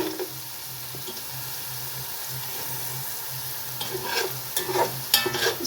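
Matar pulao ingredients fry in a pot with a low, steady sizzle, and stirring strokes grow louder and more frequent toward the end, close by.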